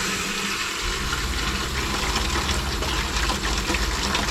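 Hot water runs from a tap in a Ford Transit van conversion, a steady rushing flow with a low pump-like hum beneath, constant and fairly close, with no talk.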